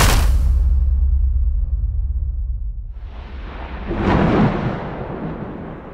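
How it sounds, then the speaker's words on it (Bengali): Loud crack of thunder in a horror story narration, starting with a sharp burst, then a deep sustained rumble that swells again into a second rolling peak before fading, with no voices. "আকাশ ফাটিয়ে কর্কর শব্দে একটা বাজ পড়ল কাছাকাছি কোথাও।"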